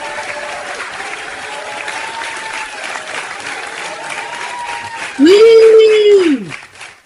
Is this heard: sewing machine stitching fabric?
no